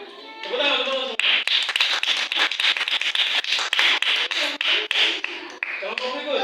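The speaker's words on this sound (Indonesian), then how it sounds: "Tepuk tangan." Students in a classroom clap their hands together in a quick burst of sharp, close, fairly rhythmic claps lasting a few seconds, with a teacher talking briefly before and after.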